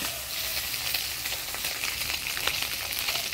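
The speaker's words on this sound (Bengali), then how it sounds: "মাছটা ভাজে নিলাম, এবার নামিয়ে নিব।" Small puti fish fry in hot oil in a pan in a village kitchen, a steady, dense crackling sizzle running throughout at close range with no talk.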